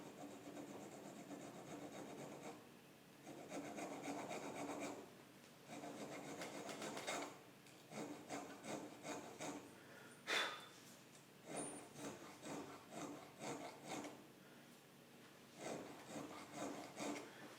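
A hand saw cuts through wood on a custom A.H. Fox shotgun stock, rasping back-and-forth strokes in a steady rhythm, close and fairly quiet.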